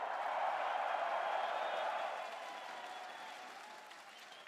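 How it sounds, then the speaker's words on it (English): A large arena crowd at the IEM Melbourne 2025 Counter-Strike grand final between Team Falcons and Team Vitality gives sustained applause and cheering that swells loudly and then gradually eases off. "So please get loud, cheer on both teams."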